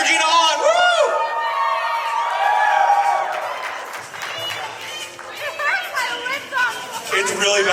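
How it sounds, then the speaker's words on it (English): A group of friends cheers and whoops loudly and close by, with overlapping excited voices and shouts throughout, mixed with chatter and talk. "let's cheer Gena on"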